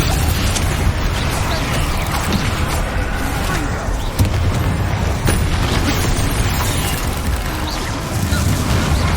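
Bombarda spell blasts in the PC game Hogwarts Legacy, a loud continuous barrage of booms and crashing rumble with sharp impacts scattered throughout.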